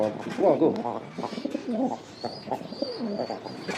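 A pigeon coos in low, throaty rolling calls close by, several in quick succession, with a person speaking softly under and between them and a faint high tone in the background.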